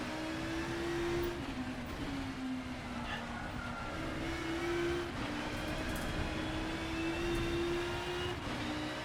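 A big estate touring race car driving hard on a circuit, its engine note steady and droning close by, rising and dipping slightly through gear changes with constant road and wind noise underneath.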